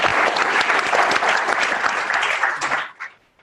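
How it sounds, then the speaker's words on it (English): A conference audience at a policy talk breaks into a round of applause, dense and loud clapping from many hands that holds steady, then tapers into a few scattered claps and fades out. "let's give everyone a round of applause"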